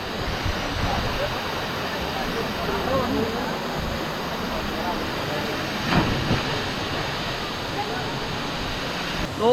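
Steady, dense roar of Daranak Falls pouring into its pool, a continuous broadband wash of falling water heard up close, with faint voices mixed in and a brief louder splash near the end.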